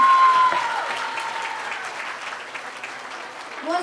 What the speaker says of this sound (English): give a huge round of applause to them.